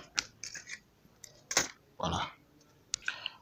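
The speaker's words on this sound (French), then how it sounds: "Ensuite, on déconnecte le connecteur." A small connector being unplugged from a board inside a laptop during disassembly, heard as a few sharp clicks and snaps spread across a few seconds, close and fairly quiet with brief rustling between them.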